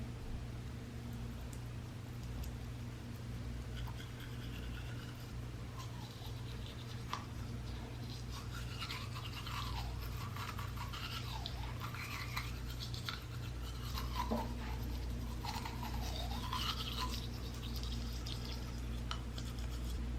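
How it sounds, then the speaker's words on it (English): A soft toothbrush scrubs teeth with the mouth slightly open, a steady wet bristly rubbing and scratching that continues throughout over low background hum. "I like to brush my teeth with my mouth slightly open, not with my teeth close together."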